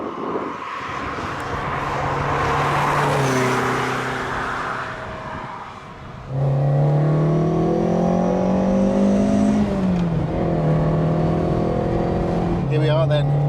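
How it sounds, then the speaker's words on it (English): Ferrari 308 GTS sports car engine on an open road in sunshine, a steady drone that rises in pitch as it accelerates, then swells louder from mid-clip with climbing harmonic tones through gear changes, fairly close and continuous. "Here we are then, open road, the sun is shining, Ferrari 308 GTS."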